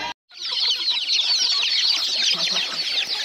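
Many chickens on a farm keep up a dense, continuous clucking and chattering chorus, close by and fairly loud, with no talking.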